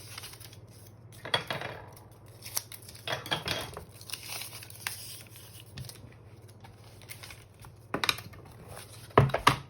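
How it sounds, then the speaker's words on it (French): Scissors trim a strip of gummed kraft paper tape on a handmade album, with several faint, separate snips and papery rustles spread across a quiet stretch, close and without talk. "Et je peux couper donc ensuite ce qui dépasse."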